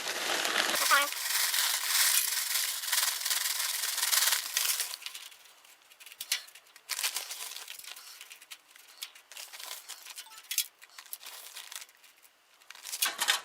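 Finely crushed ice is spread in a thin layer over a spiral-twisted tie-dye fabric, giving close crunching, crinkling and scraping bursts that start loud and turn intermittent while a person talks over them.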